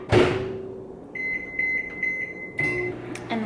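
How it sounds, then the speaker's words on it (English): Chicken heating in a microwave oven: a loud thud and clatter, then a steady hum with a string of short electronic beeps, then more clatter and rattling. "the key is to microwave the chicken so it's heated up."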